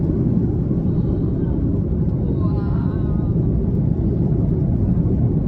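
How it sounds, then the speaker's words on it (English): A passenger airplane rolls down the runway and lifts off on a flight in the Channel Islands, heard from inside the cabin as a loud, steady low engine roar with faint higher whine. "Now the plane is pulling up. Take off."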